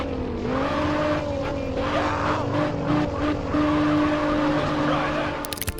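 A car's tires squealing in a long skid in GTA San Andreas with the Skid Blow mod, a loud sustained screech over engine roar that ends in a sharp burst near the close.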